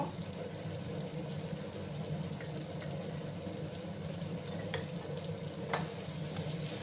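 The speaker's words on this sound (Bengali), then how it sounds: "2 মিনিটের মতো আমি এটাকে হাই আঁচে ভাজবো" Potatoes fry over high heat in a pan, giving a continuous low, even sizzle with a few faint clicks and scrapes, no speech.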